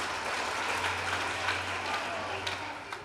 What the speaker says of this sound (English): A big round of applause from them